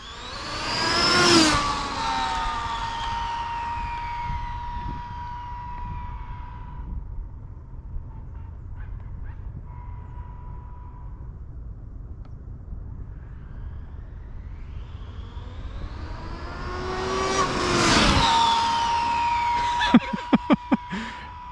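An Arrma Infraction S6 V2 RC car makes two loud high-pitched passes, its electric motor whining up and falling off as it races by, with quieter motor whir and clicks between the runs.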